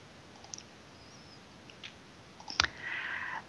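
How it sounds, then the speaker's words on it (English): A single sharp computer mouse button click lands near the middle, with faint scattered ticks and a brief chirpy noise afterward over a steady background hiss. "Click the middle button."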